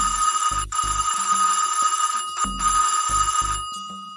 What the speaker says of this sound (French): La sonnerie retentit.